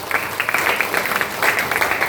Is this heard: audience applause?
yes